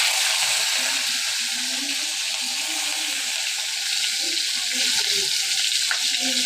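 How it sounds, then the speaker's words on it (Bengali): Prawns coated in salt and turmeric fry lightly in mustard oil, giving a loud, steady, close sizzle that stays constant throughout, with a faint low murmur underneath. "দিয়ে দিচ্ছি সরিষার তেল। থেকে লবণ হলুদ দিয়ে মাখিয়ে রাখা চিংড়িগুলোকে এখন একটু হালকা ভেজে নিব।"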